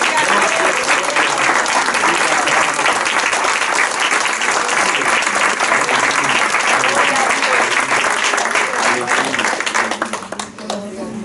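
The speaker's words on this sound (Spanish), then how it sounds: "Démosle un aplauso de verdad." A church congregation bursts into loud, sustained applause that fills the room and begins tapering off near the end, with some voices mixed into the clapping.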